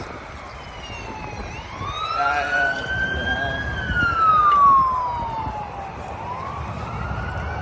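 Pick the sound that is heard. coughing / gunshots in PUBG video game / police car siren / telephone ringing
police car siren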